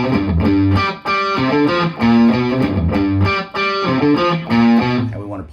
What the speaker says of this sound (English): I've got a healthy dose of distortion, not metal, but just a nice, thick, crunchy rock tone